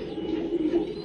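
Low, steady cooing from a small kasni pigeon held close by, a continuous soft murmuring coo lasting about a second with no talk over it.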